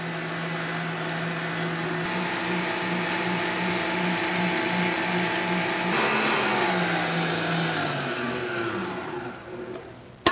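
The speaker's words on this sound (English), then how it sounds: "going to stop whipping when it reaches the stage of soft peak" An electric mixer whips egg whites for a chiffon cake toward soft peaks, giving a steady, loud motor whine with mechanical rattling that shifts in pitch partway through and runs continuously until it cuts off at the end.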